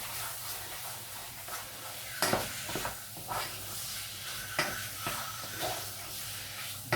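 Beef, leek and onion sizzle steadily in a pan, with a broad frying hiss broken by several scraping stirs and clatters of the spoon against the meat, fairly close and moderately loud.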